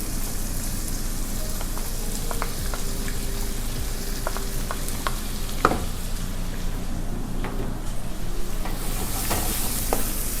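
Chopped onion, about 150 grams, sizzling steadily in a pan for egg bhurji, with a spoon stirring and scraping now and then; close and fairly loud, no talking.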